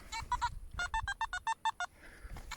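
A metal detector gives a series of quick, bright electronic beeps, a few at first and then a rapid regular string of about eight, fairly faint.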